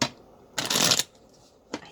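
Close-up riffles of playing cards being shuffled, a short burst at the start, a longer flutter in the middle, then a quick final riffle.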